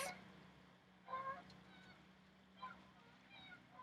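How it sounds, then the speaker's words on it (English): Faint bird calls in open air, a few honking, goose-like cries spaced out over a steady low background hum. "hear the birds."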